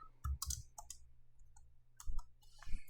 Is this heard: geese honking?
no